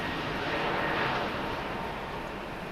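An Atlas Air Boeing 747 at LAX gives off a broad, steady engine roar, loud and unbroken for the whole stretch, with no voices.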